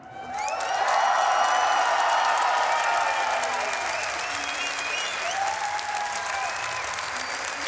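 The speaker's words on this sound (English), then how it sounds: "listen to this beautiful crowd that we have right here in front of me" A large crowd at an esports grand final applauds and cheers, the clapping swelling quickly and staying loud and continuous, with scattered whistles and shouts.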